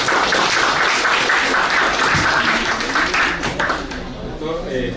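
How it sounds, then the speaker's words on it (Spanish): Audience applause after a speaker's lecture at a Spanish-language law event, a dense steady wash of clapping that fills the clip and eases slightly near the end. "Un fuerte aplauso."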